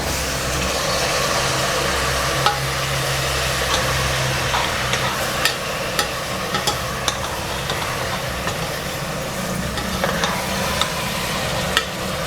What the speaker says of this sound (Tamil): தக்காளி நல்லா வதங்கணுங்க.